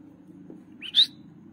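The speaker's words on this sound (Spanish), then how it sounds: "Escucharon, chiflaron despacito." A single short, soft whistle rising briefly above a quiet low background hum, faint and somewhat distant.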